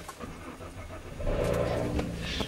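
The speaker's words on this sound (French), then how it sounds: "il faut que je démarre la voiture" A Peugeot 407 car engine cranks and catches about midway, a brief starter whir followed by a steady low idle, recorded close by at moderate volume.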